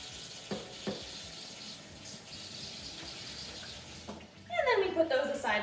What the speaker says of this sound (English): Wash under water, making sure to rustle them around so they all get clean.